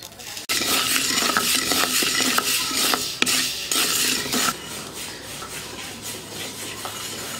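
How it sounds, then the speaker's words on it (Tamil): Fenugreek seeds, 75 grams, dry-roasted in a pan with no oil, giving a steady rustling, scraping stir with light clinks of the spoon against the pan, close and fairly loud throughout with no talking. "வெந்தயம் 75 கிராம் எடுத்திருக்கேன். அதை வந்து எண்ணெய் விடாமல் வறுக்கணும்."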